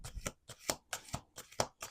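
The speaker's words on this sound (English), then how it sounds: "Let's do two more shuffles." A deck of cards is shuffled by hand repeatedly, producing quick close bursts of riffling flutter in a steady rhythm of about four strokes per second.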